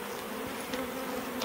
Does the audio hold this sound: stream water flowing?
no